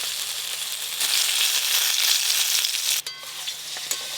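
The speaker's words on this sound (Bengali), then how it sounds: "আর একটু বাকি আছে, আর একটু ভালো করে ভেজে নিই।" Eggplant slices fry in mustard oil in a rustic village kitchen, a steady close sizzle with a hissing texture that softens near the end, broken by a few brief clinks.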